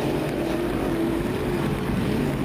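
Hydro350 racing hydroplanes accelerating near the municipal dock at St-Félicien, heard as a dense, steady engine roar with a rising whine, mixed with wind buffeting on the microphone and no voices.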